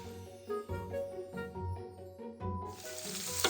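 Onion and bell peppers sizzle together with chicken in a pan, a steady close frying crackle under a light tinkle of metal, growing brighter and hissier toward the end.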